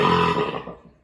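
A long, loud, rumbling burp after drinking beer lasts about a second and slowly fades out, with no one talking.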